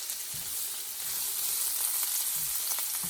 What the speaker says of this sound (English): We'll go ahead and actually add the garlic now.